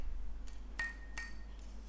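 A cheap Chinese cleaver blade gives a few light metallic taps, one or two clear ringing pings that sustain briefly before fading, heard close and alone against a quiet background.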